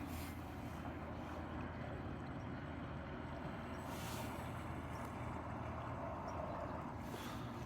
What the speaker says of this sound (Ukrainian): Кораблик розганяється на маленькій швидкості і приходить на скажімо так, робочу.